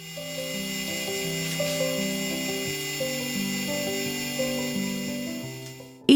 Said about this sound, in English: I use the Astoyo mixer, which has a really nice AI feature and will change directions every so often and mixes for 4 minutes